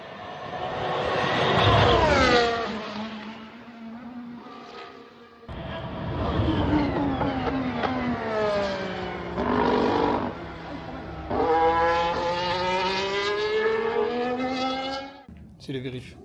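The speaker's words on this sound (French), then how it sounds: "Il y a McLaren qui teste." McLaren race car testing at a rally event, its engine note rising and falling in long sweeping pitch changes, loud and fairly close, with voices talking alongside.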